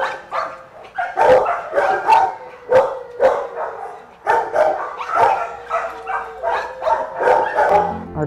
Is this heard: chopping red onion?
no